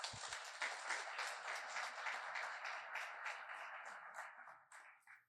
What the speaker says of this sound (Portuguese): Com vocês, Rogério, uma salva de palmas.